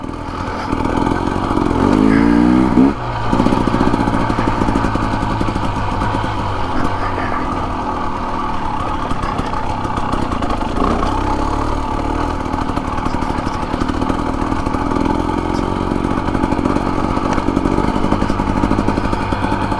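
Husqvarna TE250 dirt bike ridden on a trail in Kelly Canyon, Arizona: steady close engine drone with rises and falls in revs and rattling over rough ground, continuous throughout.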